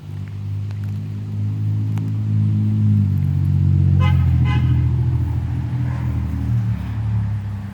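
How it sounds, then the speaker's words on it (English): Passing cars give two short, loud horn toots over a constant close roar of road traffic near a Halloween haunted-yard display. "people have been honking and taking pictures."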